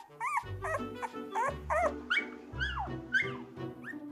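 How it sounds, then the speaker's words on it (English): A small puppy whimpers and yips in a series of high, wavering cries, close and fairly loud, roughly six calls spaced across a few seconds, with low thumps beneath them. "Loving mom Bridget is quick to answer her puppy's call and swoops in to the rescue"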